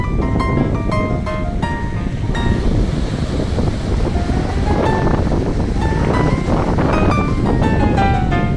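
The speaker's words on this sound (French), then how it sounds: "C'est la tempête. C'est le grand vent." Strong gusting wind buffets the microphone at a wooden house construction site, a loud continuous roar throughout with no speech.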